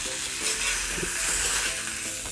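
Fish frying in a kadai with no oil, part of a zero-oil ulkochu and fish curry, gives a steady close sizzle with faint stirring scrapes throughout.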